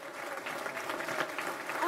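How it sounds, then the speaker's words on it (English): An audience at a political leadership announcement applauds a volunteer with dense, steady clapping throughout, fairly close and sustained for the whole moment. "give a big round of applause for this volunteer"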